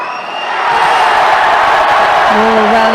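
Judo arena crowd at a European Championships final block reacting with loud, sustained disapproval, a broad roar of jeers and groans filling the hall, with a commentator's voice over it.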